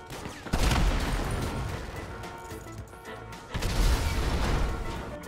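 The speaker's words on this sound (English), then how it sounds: "I just heard gunshots outside." Gunfire in a GTA 5 roleplay firefight, two loud bursts of rapid shots and crashes, close and harsh, each fading into a noisy tail.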